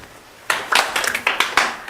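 A short scattered burst of hand claps from a small group, loud and close, lasting about a second and a half.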